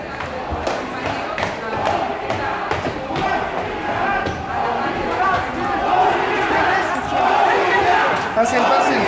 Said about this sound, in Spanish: Se escuchan de fondo aplausos y vítores